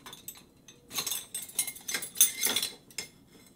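Silverware clinks and rattles as it is lifted out of a COMFEE countertop dishwasher, a run of close, bright metallic clatters and chinks with brief pauses between them and no speech.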